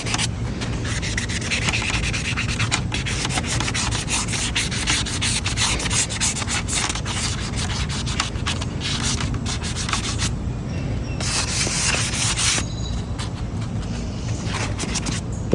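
Sandpaper rubs steadily over a wooden rocking chair in continuous, close, scratchy strokes that never pause, with a brief change in texture midway.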